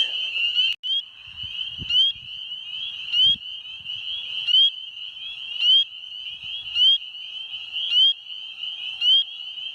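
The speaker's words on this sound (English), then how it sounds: "Another spring peeper right here." Spring peepers call at night from a wetland, a steady high trill with regular louder peeps rising about every second, carrying close and clear with a few soft low thumps underneath.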